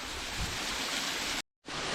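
The Cerrito Blanco waterfall in Córdoba, Argentina, gives off a dense, steady roar of falling water that fills the space. The roar cuts out briefly and then returns, with no voices.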